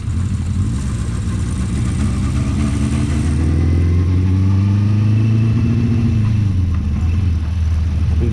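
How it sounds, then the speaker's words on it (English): Small four-cylinder Honda CB400/4 Super Sport classic motorcycle engine running loud and close, a steady smooth hum with a gentle rise and fall in revs throughout, no talking. "Sounds like a little sewing machine, the engine."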